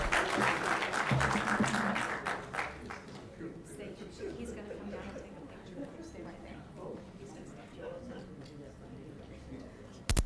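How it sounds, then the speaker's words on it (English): Audience applause at a regular council meeting for a birthday recipient, strongest in the first few seconds with sharp individual claps, then thinning to scattered claps and murmuring chatter in a large room. "Another round of applause for our happy birthday recipient."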